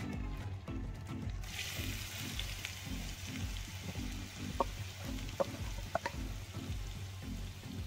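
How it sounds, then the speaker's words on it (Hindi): Four chopped onions fry in hot oil, a close, continuous crackling sizzle with a low rhythmic rumble underneath and a few sharp clinks partway through; nobody speaks. "ये ऑयल मैंने रख दिया ऊपर गर्म करने के लिए, और ये 4 प्याज है, ये इसमें डालूंगी।"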